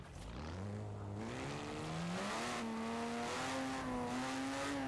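Porsche 917 LH race car engine in Forza Horizon 4, heard from outside as a loud, steady roar whose pitch climbs smoothly through a long upshift-free pull, no voices present.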